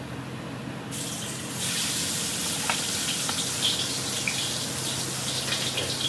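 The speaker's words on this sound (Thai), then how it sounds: "เราจะเริ่มใส่ลงไปผัดนะครับ" Chili paste ingredients for nam prik ong, heavy on chilies, stir-frying in oil in a pan; a steady loud sizzle sets in after the first second and continues unbroken, with faint scrapes, and no talking.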